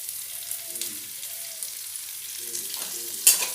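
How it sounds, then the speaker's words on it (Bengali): Chopped onion goes into a cumin and dried red chilli tempering in hot oil, making a soft, airy sizzle at low level. Faint tonal sounds rise now and then, and a sharp clink comes near the end. "এবার ফোড়নটা নাড়াচাড়া করে ওতে দিয়ে দেব সামান্য এই কুচিয়ে রাখা পেঁয়াজ।"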